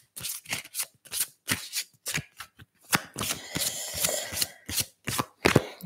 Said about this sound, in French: Nous allons maintenant tirer 3 cartes des cartes transformation.